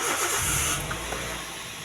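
A car engine cranks and catches, a brief starter whir followed by the engine settling into a steady running hum, close and fairly loud.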